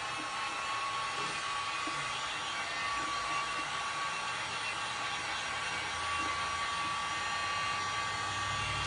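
A hair dryer runs steadily and close by, drying freshly poured paint on a glass and resin pumpkin piece, its broad even whoosh holding constant throughout with no talking.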